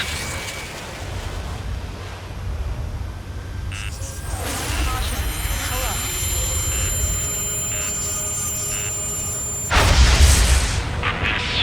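A railgun shot in the Ace Combat 7 flight game, a heavy low boom with a rising whoosh building from a steady rumble, then a loud, broad blast near the end, over continuous game ambience with no talk.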